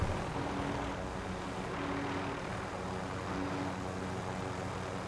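A helicopter in the Modern Warfare video game makes a constant, dense rotor and engine drone, steady and fairly loud throughout with no voices over it.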